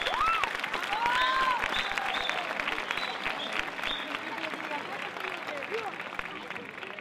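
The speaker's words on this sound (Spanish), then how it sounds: "quiero pediros un fuerte aplauso para comenzar estas palabras" A crowd at a festival proclamation breaks into loud, sustained applause that slowly tapers over seven seconds, with scattered shouts and cheers rising above the clapping.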